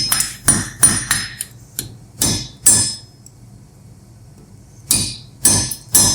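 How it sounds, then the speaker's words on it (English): Hammer blows ring out while forging a small Mjolnir pendant hammer head, with sharp metallic strikes in irregular bursts of two or three, broken by a pause before more hits. "So, forging the hammer head."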